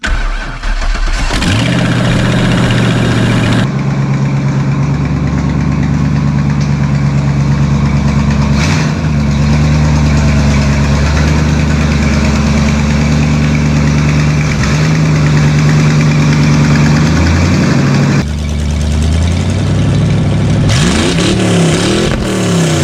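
A Ford F250 truck engine cranks and catches, then settles into a loud, close, steady idle with occasional revs and a brief stumble near the end, with no talking.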